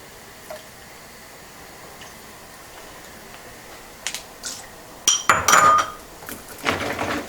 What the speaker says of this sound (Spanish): Y le agregamos más hielo.